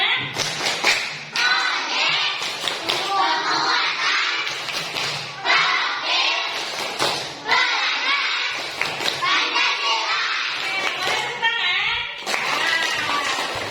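A group of children perform a rhythmic clapping chant in class, voices calling out in unison between bursts of sharp, patterned claps and thumps that repeat in short phrases.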